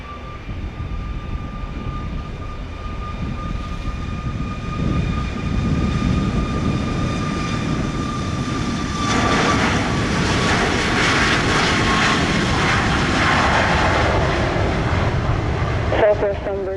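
An airliner takes off on runway 07 at Sangster International Airport in Montego Bay, Jamaica, its engines roaring steadily and swelling into a broad, loud rush heard from the airfield, with a tonal whine over the top early on.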